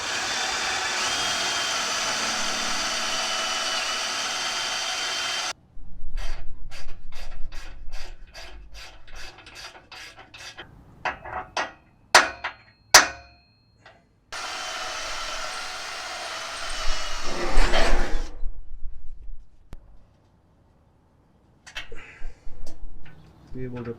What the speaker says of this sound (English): So I'm going to drill and tap this into the bottom of the bumper.